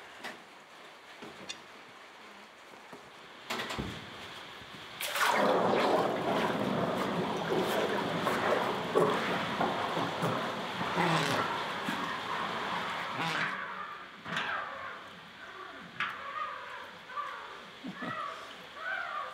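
Hot steel blacksmith hammer dies plunged into a water quench tank, starting with a sudden loud hiss that becomes sustained bubbling, crackling and rumbling boil, close up and irregular over several seconds.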